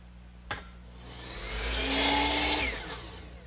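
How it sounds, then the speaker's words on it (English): A power miter saw spins up and cuts a 45-degree angle through a wooden mirror frame piece, the whine swelling into a loud rasping cut before winding down, with a sharp click at the start. "Swing the saw back over to the other side of 45 and cut it off."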